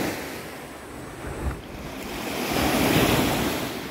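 Waves washing onto a freshwater beach near Belém, Brazil, a steady broadband surf wash that swells toward the end, with wind buffeting the microphone and no speech.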